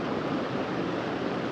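Water rushing steadily at Brindavan Garden in Mysore, a constant loud broadband roar with no breaks, close to the microphone.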